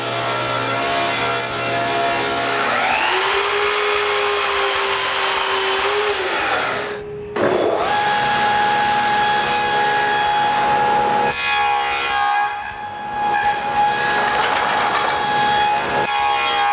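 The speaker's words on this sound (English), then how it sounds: "Now we can rip more strips for the removable trays." A table saw rips thin wooden strips for removable drawer trays, a loud, close, steady whine that dips in pitch as each strip is fed through, with brief gaps between cuts.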